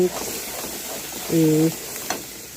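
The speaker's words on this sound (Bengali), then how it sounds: "পেঁয়াজ, রসুন, আদা, তারপরে হলুদের গুঁড়া, মরিচের গুঁড়া, টমেটো এগুলো দিয়ে নাড়াচাড়া করে" Onion, garlic, ginger, turmeric, chilli powder and tomato frying in a wok, a low steady sizzle with a brief louder scrape of stirring midway, faint and close.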